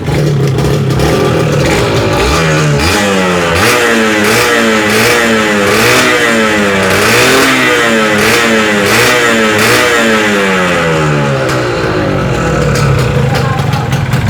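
A 1990s Yamaha TZR two-stroke motorcycle engine revs loud and close, rising and falling in repeated throttle blips over a steady ringing idle.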